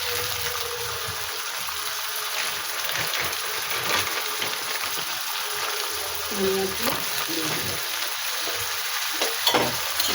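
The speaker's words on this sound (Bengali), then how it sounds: "একটুখানি শুকনো লঙ্কা দিলাম তারপরে এই চিংড়ি মাছগুলো দিয়ে দিলাম" Shrimp frying with dried red chilli in a pan, giving a steady, close, broadband sizzle that runs the whole time, with a few brief stirring clinks and scrapes near the end.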